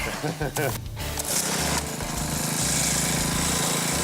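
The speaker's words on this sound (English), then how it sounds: "So we're just cracking through the first layer of the ice." A loud, continuous mechanical drilling roar with a grinding, chattering rhythm as a power ice auger bores through about 3 feet of ice, steady throughout.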